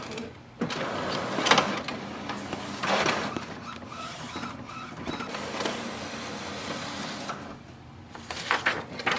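Epson WF3820 inkjet printer printing a nozzle check, with the print head shuttling back and forth in repeated mechanical whirring passes and clicks, fairly faint and close.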